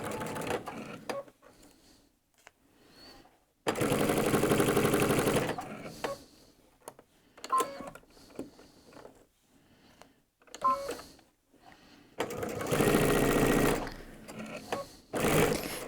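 Sewing machine stitching the side seam of a sleeve over gathers, running in several sustained loud bursts with pauses between them and a few short clicks, with no one talking.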